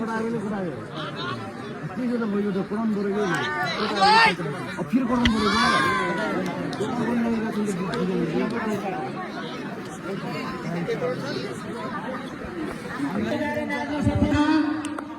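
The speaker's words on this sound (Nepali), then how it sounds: "केटा हुटिङ गरे है ओए घने हुटिङ गरेछ है" Spectators hoot and shout at a men's high jump competition, a busy, continuous crowd babble with louder whoops and cries rising over it.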